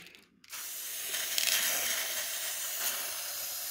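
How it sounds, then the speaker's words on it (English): Silver spray paint hissing steadily from an aerosol can into a small container, a continuous close, moderately loud spray that starts after a brief pause and runs unbroken to the end. "Just spray a little puddle."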